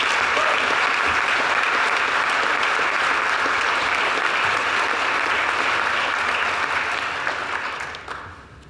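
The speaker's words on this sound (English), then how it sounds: "Let's give you another round of applause." Sustained applause from an audience at a veterinary college's 75th anniversary program, a steady dense wall of clapping that holds for several seconds before tapering off near the end.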